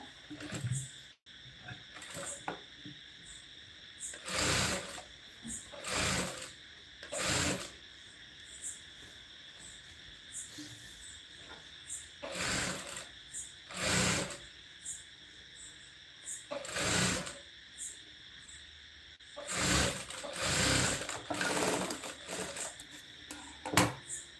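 A domestic sewing machine stitching a blouse sleeve onto the bodice, running in short repeated bursts of rapid needle clatter separated by pauses, with someone talking quietly in between.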